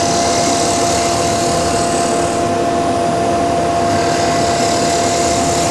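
A lathe spins a Coca-Cola acrylic pen blank while the top surface is tidied, a loud steady whirring motor hum with a constant tone throughout, no voices.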